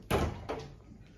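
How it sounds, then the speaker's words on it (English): A window or door in a hotel room in Corfu, Greece being opened: a close, sharp thud and rattle followed by a second softer knock, heard on its own in a quiet room. "Open the window."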